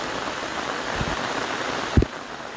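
Water pouring steadily into a farm field, a constant close hiss and splash with a couple of brief low thumps near the end.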